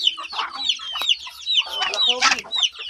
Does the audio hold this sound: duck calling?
yes